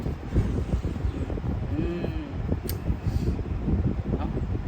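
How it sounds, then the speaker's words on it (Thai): A loud electric fan gives a steady, low, throbbing whoosh with gusty buffeting like wind on a microphone. A brief tonal sweep rises over it midway. "พัดลมดังเนาะ"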